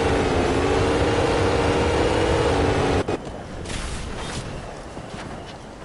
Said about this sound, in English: When it's idling, it sounds okay. It's just that sewing machine hair dryer sound.